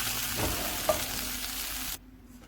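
Spinach stirred in a hot pan to cook off its own water, a steady close sizzle with faint stirring scrapes that cuts off abruptly near the end.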